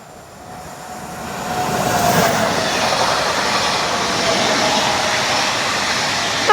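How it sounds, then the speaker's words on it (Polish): A Stadler Flirt regional train of the Łódź railway rolls through Warszawa Włochy station. The loud, steady rumble of wheels on track builds over two seconds, then carries on with faint clatter and a thin squealing tone. "No i mamy flirta łódzkich kolei."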